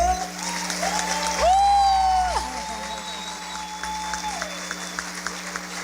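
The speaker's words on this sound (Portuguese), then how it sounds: "Você pode aplaudir o Senhor?" Applause from a church congregation rises and holds for about a second before fading, under a sustained organ-like tone and speech.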